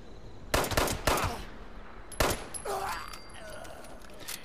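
Several sharp gunshots fired at a Raider in the Fallout 76 video game, a tight burst followed by another, loud and close, with game sound effects trailing between the shots.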